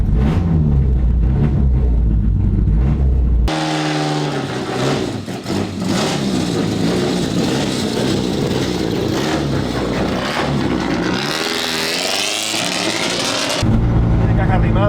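Renault 18 rally car engine revving and driving, a loud, sustained mid-pitched roar that rises and falls with acceleration, with voices talking at the start and end.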